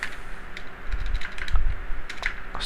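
Rapid, uneven typing on a computer keyboard while entering C# code, the clustered key clicks close and fairly loud with short pauses between bursts, no talking.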